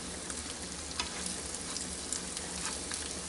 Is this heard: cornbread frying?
yes